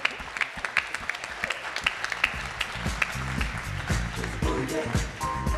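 Audience applause at the DAF'NIGHT 2025 awards ceremony for CFOs: dense, sustained clapping from a crowd, loud and close, with a rhythmic thump and faint voices mixed underneath.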